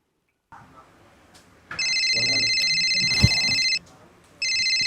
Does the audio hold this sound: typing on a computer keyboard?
no